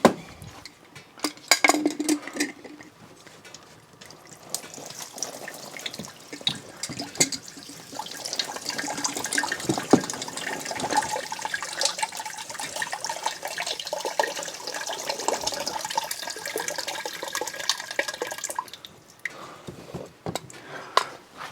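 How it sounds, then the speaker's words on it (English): Water gushes steadily from a loosened water softener tank during resin replacement, a continuous hissing splash running for most of the stretch before easing off at the end. "A lot of water coming out of the freaking house."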